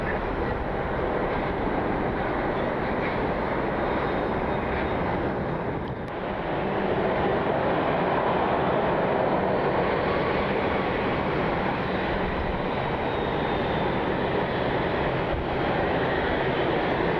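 An American Airlines airliner taxis at Cleveland Hopkins International Airport, its engines making a loud, steady broadband roar and whine that holds throughout, dipping briefly once, with no voices.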